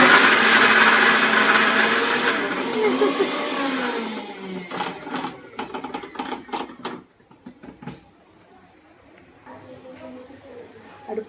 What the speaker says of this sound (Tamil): இப்போ வந்து தேங்காய் அரைக்க போகிறாங்க பாருங்க